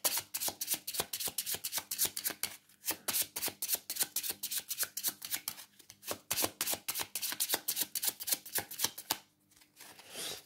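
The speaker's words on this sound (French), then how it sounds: "je vais vous prendre une carte de l'oracle des origines" Oracle cards are shuffled and drawn from a deck, making a long run of fast, crisp riffling flicks close by, with a brief pause near the end and no talking.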